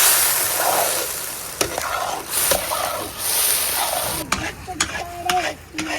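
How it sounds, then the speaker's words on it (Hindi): A spoon works through commercial-style Bannu milk halwa in a pot, giving a continuous bubbling sizzle under repeated scraping strokes, with sharper clinks of metal against the pot near the end. "आपने चम्मच चलाते रहना है और मिक्स करते रहना है"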